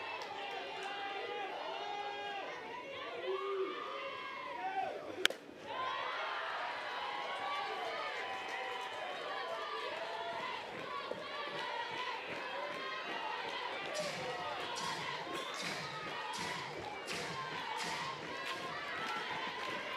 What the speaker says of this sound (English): Hasn't changed the noise level of this crowd, though.